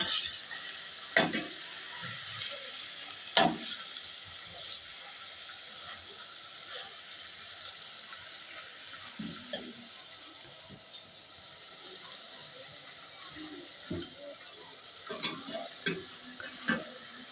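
Chicken pieces for nihari frying in a pot, a steady soft sizzle running throughout with occasional sharper clinks and scrapes of a spoon against the pot.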